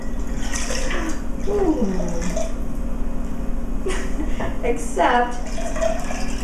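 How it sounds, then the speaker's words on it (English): Milk pours into a jar with gurgling, splashing liquid sounds over a steady background hum, and a person speaks briefly during the pour. "And then I'm going to pour the rest of the milk in the jar."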